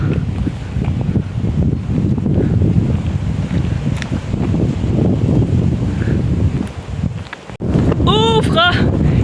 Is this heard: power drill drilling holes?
no